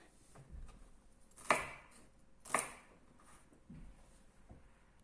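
Knife strokes cutting red bell pepper into chunks on a cutting board, two sharp distinct chops among softer taps, quiet and close.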